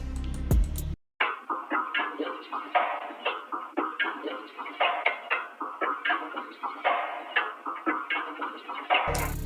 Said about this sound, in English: I like to add in percussion loops a lot of times.